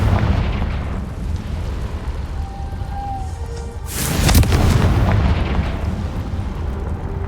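Confringo fire spell blasting in Hogwarts Legacy during a dragon fighting ring scene, a single sharp explosive burst rising over a low rumbling backdrop, then a lingering roar.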